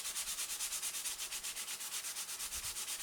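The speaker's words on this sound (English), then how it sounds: "Take some fine sandpaper, about 320, and lightly hit this." Fine 320-grit sandpaper rubbed lightly over the side of an acoustic guitar, a soft, quick back-and-forth hiss repeating in steady rhythm, close and quiet.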